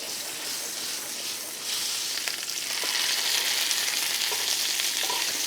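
Food fries in a pan with oil and butter, giving a steady bright sizzle that swells louder partway through, with a few soft clicks of stirring near the pan and no talk.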